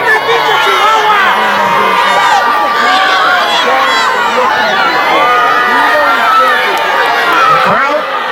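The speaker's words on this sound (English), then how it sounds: "Crowd getting in the faces of the Riddles." Ringside crowd at a lucha libre trios wrestling match, loud and dense, with continuous cheering, shouting and excited whoops, children's voices among them, filling the whole stretch without a break.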